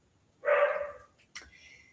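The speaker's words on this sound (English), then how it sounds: "he's got a rush of energy now, he's been sick and he's barking at everybody" A single sharp bark close by from a dog recovering from illness, followed a moment later by a brief softer yip or huff.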